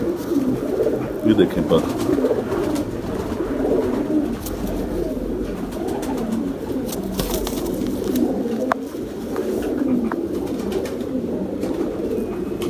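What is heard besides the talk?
pigeons cooing while feeding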